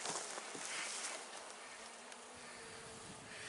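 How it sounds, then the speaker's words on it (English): Buckfast honey bees buzz steadily at an active hive, a dense continuous drone from close by with no voices. "So it looks like a pretty active hive, which is pretty amazing up top here."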